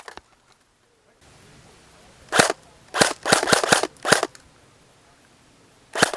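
An airsoft gun firing outdoors during an airsoft game: a single sharp crack, then a quick burst of snappy shots close together, another lone shot, and a final crack after a pause, all loud and near against quiet field ambience.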